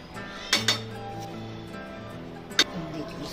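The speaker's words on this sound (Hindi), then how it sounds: "चम्मच से हिला के सॉफ्ट कर देंगे" A spoon stirs a cornflour mixture in a bowl for mango jelly, making a few short, bright clinks against the dish, two close together and one more a moment later, under a low speaking voice.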